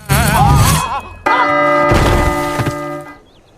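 A cartoon effect of a giant bell dropping onto someone: a wobbly warbling tone, then a loud clanging bell strike that rings out with a sustained metallic hum before fading.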